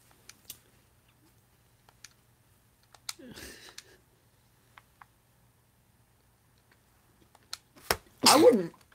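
A sudden sneeze bursts out near the end of a quiet stretch in a podcast conversation, loud and close, preceded by a sharp intake and a few small clicks and faint voice sounds.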